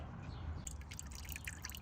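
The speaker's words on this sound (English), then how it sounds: "we're gonna let the excess drip out here before we do that." Transmission fluid dripping out of a 2019-or-newer Toyota RAV4 during a fluid change, a faint, close patter of small drips over a low background hum.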